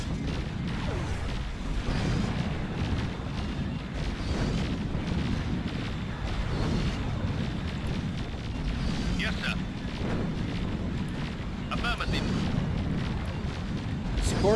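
Torpedo fire and explosions in the space combat video game Nexus: The Jupiter Incident, a continuous dense rumble of booms and blasts with some sharper impacts, with voices speaking over it at times.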